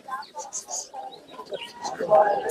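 Pigeons at a bird market in Mirpur 11, Dhaka, soft cooing and chirping close by, mixed with voices talking over them.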